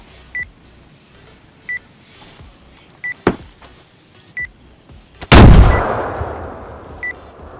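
In the DayZ video game, a grenade detonates with one sudden loud blast followed by a long fading rumble, preceded by a sharp crack and set among regularly spaced short electronic beeps, close and alone.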